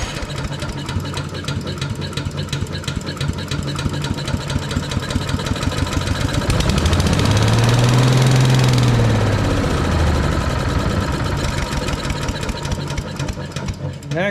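A Briggs & Stratton engine on an Agri Fab Mow & Vac leaf vacuum runs steadily, a loud close rough idle with a knocking pulse that swells briefly in the middle before settling.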